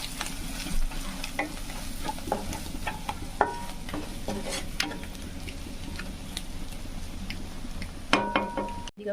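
Spiced masala for egg curry sizzles and fries in a pan while a spoon stirs it steadily, with light scraping clicks against the metal and a brief clatter near the end.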